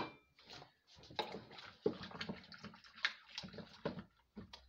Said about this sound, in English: But first I gotta wash the magic spoon.